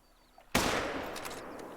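A single loud rifle shot fired at a buck in the hunting game Call of the Wild cracks sharply out of near quiet, then trails into a long, rumbling echo that fades slowly.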